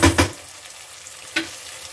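Ginger garlic paste hits hot oil in a pan for Chettinad mutton masala, giving two quick sizzling, stirring bursts at the start and another brief burst near the end. A faint fry continues between them.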